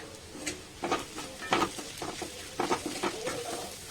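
Ground coriander, cumin and other spice powders fry in a pan for an Assamese duck curry, with irregular scraping stirs and soft crackle in the background, fairly quiet and close.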